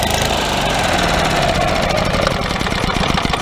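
A Yamaha golf cart engine runs steadily up close, a loud, rough, clunky drone with a knocking vibration that holds for the whole stretch and no talk.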